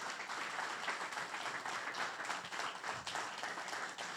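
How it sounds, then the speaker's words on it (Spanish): A church congregation claps together in a steady, dense patter that runs evenly throughout, moderately loud and filling the room. "Denle el aplauso al Señor"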